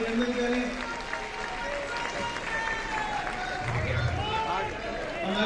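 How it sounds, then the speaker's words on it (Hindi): At a political rally, an audience claps steadily to welcome a guest, a broad wash of applause and crowd noise that runs throughout while a voice talks over it. "सभी से ताली बजा के भाई साहब का संस्कार हानि में स्वागत करें"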